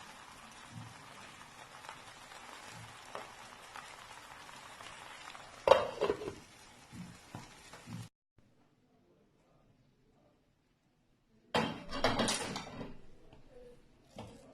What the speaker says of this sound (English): I added the vegetable, and I will stir again. Stir very well.